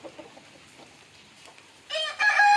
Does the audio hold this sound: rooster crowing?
yes